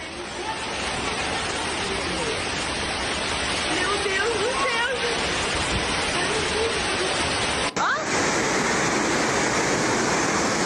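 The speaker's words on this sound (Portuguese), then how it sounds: "que curiosa essa chuva que está baixando aqui na minha região, no meu bairro" Heavy rain pours over a hillside neighborhood in Brazil, heard as a dense, continuous roar of water carrying dirt, played back from a news report while a woman exclaims over it.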